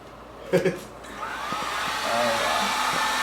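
Cab blower fan on a UTV pushing air, a steady broadband whoosh that builds and holds, close and moderately loud, with a couple of brief knocks near the start.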